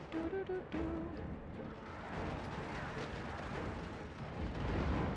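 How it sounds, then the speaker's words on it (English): A Clan Eshin poisoned wind mortar firing in a strategy game, a faint, muffled booming launch with rumbling explosions under quiet background noise. "Poisoned wind mortar!"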